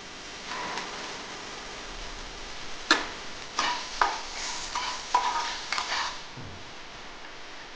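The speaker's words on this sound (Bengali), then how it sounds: "প্রথমে আমি আলুগুলো ভেজে নিচ্ছি।" Potatoes frying in a pan with dried chillies and a bay leaf give a soft, steady sizzle, broken by several sharp scrapes and stirring knocks of a utensil, close and fairly quiet, with no talking.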